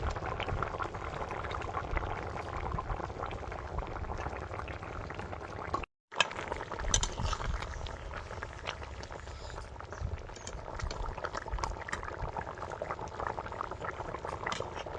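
Taro curry with cumin paste boils in a pot, giving a steady, dense bubbling that continues alone throughout, broken only by a brief silence near the middle.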